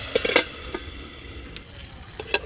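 Aubergine slices frying in a covered pan with a little water and no oil make a steady close sizzle, broken by a few sharp stirring or scraping clicks and no voices.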